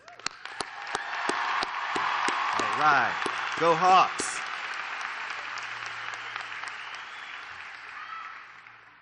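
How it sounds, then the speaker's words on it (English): A graduation crowd at Seminole Ridge Community High School breaks into loud, sustained applause with sharp claps and cheering, a voice briefly calling out over the roar before it slowly fades. "I'd like to see this crowd go wild with a huge round of applause for these amazing graduates"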